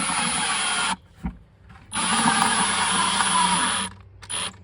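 Power drill driving a screw through the bottom of a plastic bucket into a post, two loud sustained whirring bursts with a brief pause and a short final pulse, close up.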